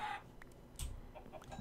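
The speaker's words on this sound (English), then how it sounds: "Hello, chicken." Minecraft chicken clucking, a few short faint clucks spaced irregularly with nothing else around them.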